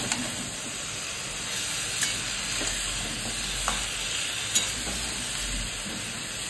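A chicken stew simmers and sizzles in a pot after three whole onions go in, with a steady, fairly quiet hiss and a few soft stirring knocks, no voices.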